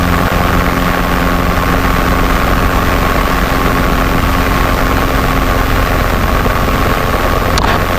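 A Robinson R22 helicopter maneuvers on a runway, its engine and rotor producing a loud, sustained drone with steady tonal hum and rapid blade chop, close to the microphone and uninterrupted.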